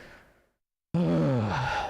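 After a short stretch of quiet, a voice lets out a long, drawn-out groan imitating a human moan, close and loud, sliding downward in pitch before tapering off.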